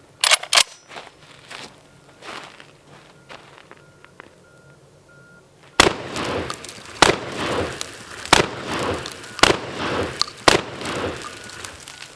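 Shotgun fired repeatedly with weapon lights (a Harbor Freight replica and a Streamlight TLR-1 HL) mounted, several sharp loud blasts in an irregular sequence following a quiet stretch with a few faint clicks and beeps.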